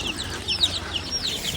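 Chicks carried in baskets during a chicken distribution in Bijanbari give a busy chorus of high, rapid peeping and cheeping, loud and close, continuous over a faint background.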